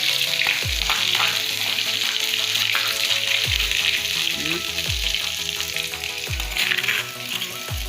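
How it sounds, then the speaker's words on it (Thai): Pounded curry paste hits hot oil in a pan for a northern Thai buffalo meat curry, giving loud, steady close-up sizzling and frying with occasional dull thumps from stirring. "น้ำมันร้อนแล้วนะครับ เราก็ เอาพริกแกงที่เราโขลก ใส่ลงไปเลยครับ"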